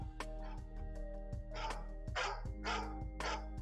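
Repeated dog barks, six or seven crisp yips at a steady pace, ring out over a continuous musical backdrop in an eMLB League Division Series broadcast.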